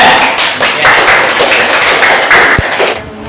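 A class of students in a teacher-training performance exam claps for a group, brisk scattered applause lasting a few seconds with a single thump near the end.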